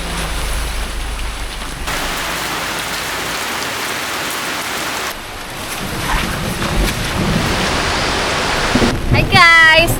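Heavy rain falling on a campsite in Maragusan: a dense, loud, steady hiss of downpour that swells and shifts in intensity, with faint voices beneath it.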